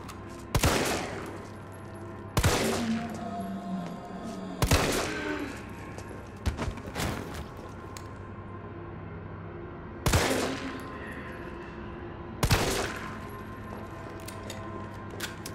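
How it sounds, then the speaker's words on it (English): Jill's handgun firing in the Resident Evil 3 demo: six sharp, powerful single shots spaced a few seconds apart, each with a short ringing tail over a low ambient hum, with no talking. "Her gun seems, at least it sounds, way more powerful than the handguns from the I want to say the first game"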